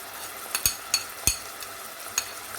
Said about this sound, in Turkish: Şimdi bunları güzelce kavuracağım.